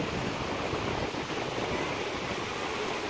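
Fast-flowing river water at the Devprayag confluence of the Alaknanda and Bhagirathi rivers, a dense continuous roar of rushing water, loud and steady without pause.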